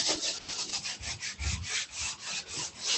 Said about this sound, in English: You can dry sand that.